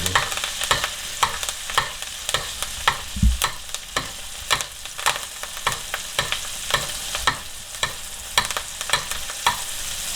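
Beef steak frying in a hot pan, a steady crackling sizzle with scattered sharp pops and spits throughout, close and fairly loud, no voices.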